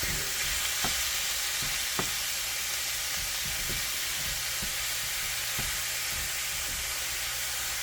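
Ground beef browns on high heat in a small wok, a dense continuous sizzle and hiss with occasional scraping knocks of a utensil, close and loud with no speech.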